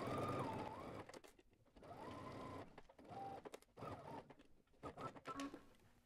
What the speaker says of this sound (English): Now we're gonna go to the sewing machine, and we're going to stitch using 5/8 of an inch seam allowance.